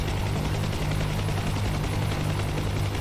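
Steady, loud helicopter rotor and engine drone from a VR helicopter simulator game, running continuously without a break and with no voices over it.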